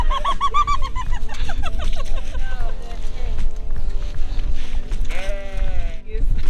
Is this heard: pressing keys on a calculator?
no